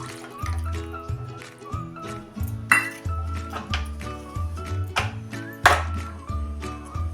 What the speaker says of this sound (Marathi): हे पातेलं मी गॅसवर ठेवलेलं आहे.